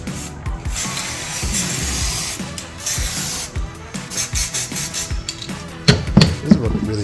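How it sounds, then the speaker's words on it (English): Spray glue hisses from an aerosol can in short bursts and longer sprays during box building, close by, mixed with rubbing and handling noises. "our favourite spray glue"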